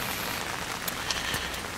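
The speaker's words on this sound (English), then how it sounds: "It's pouring rain out here, so I don't want to stay out here too long." Heavy rain pours outdoors, a steady soft hiss with scattered louder drops striking nearby surfaces, fairly quiet and continuous.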